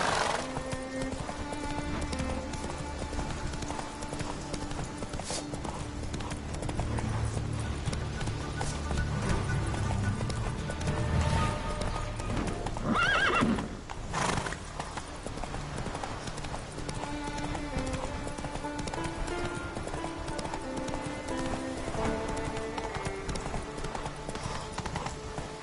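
Roach the horse in a video game, hooves clip-clopping in a steady trotting rhythm with a sharp whinny partway through, set against a continuous music score.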